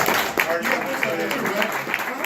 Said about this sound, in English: Ray, round of applause.